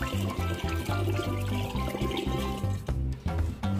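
Sugar water pours steadily into a container for water kefir, splashing and gurgling, with music playing throughout.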